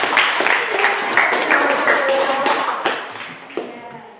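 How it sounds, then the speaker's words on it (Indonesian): Audience applause during a classroom quiz session, a dense crackle of many hands clapping steadily and fairly loud for several seconds before thinning out toward the end. "Terima kasih, tepuk tangan."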